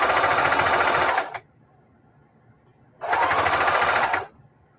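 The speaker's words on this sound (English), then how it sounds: "So when you're sewing," A sewing machine stitches a mitered quilt binding in two bursts, each a loud, steady, rapid mechanical buzz lasting just over a second, separated by a quiet pause.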